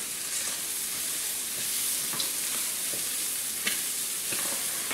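Onions, celery and garlic sautéing together in a pan for rice pilaf, a steady, close hissing sizzle with occasional soft clicks and scrapes of stirring.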